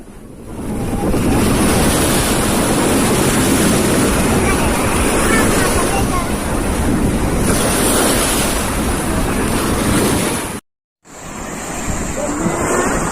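Loud, continuous surf of sea waves washing onto a beach, with wind buffeting the microphone and a brief dropout near the end.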